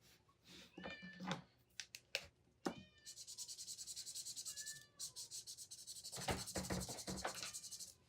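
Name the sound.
cat meowing, locked out of the room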